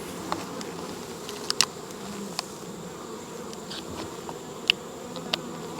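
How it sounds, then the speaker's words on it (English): Steady low buzzing from a mass of honey bees, with individual bees zipping past now and then. No voices. "you can see there's bees on every frame"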